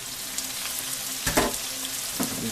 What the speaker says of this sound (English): Get the rest of these shrooms up in there. Get them all sauteed up.